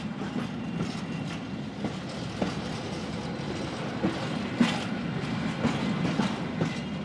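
A train running steadily on rails, with a continuous low rumble and rhythmic clickety-clack of wheels over the track joints, no voices.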